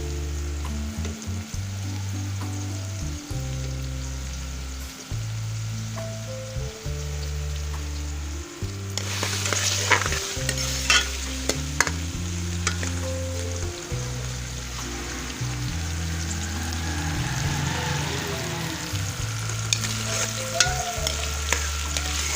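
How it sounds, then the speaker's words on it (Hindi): Bitter gourd frying in hot oil while being stirred, with a steady sizzle that grows busier and brighter about halfway through, over a low rhythmic hum in the kitchen, with no one talking. "ये करेले फ्राई हो जाएंगे।"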